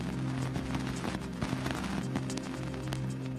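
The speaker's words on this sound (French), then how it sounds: "Voici le bruit des poussières heurtant l'antenne de l'engin." Cassini probe's recording of dust grains striking its antenna while flying near Saturn's F ring, a dense, continuous crackle and sputter of impacts with scattered louder pops over a steady humming drone, heard alone without voices.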